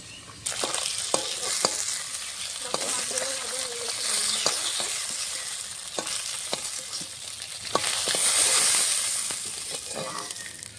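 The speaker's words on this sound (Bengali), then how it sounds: "সম্পূর্ণ মাছ ভাজা হয়ে গেছে।" Bata fish sizzles and crackles steadily in hot mustard oil in a home kitchen pan, with scattered pops and a few utensil scrapes, loud and close throughout with no speech.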